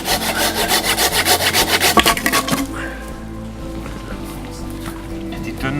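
Hand saw cutting through deadwood tree trunks outdoors to build a raft, a close, loud rhythmic back-and-forth rasp of about a dozen strokes that stops partway, leaving quieter rustling and handling noise.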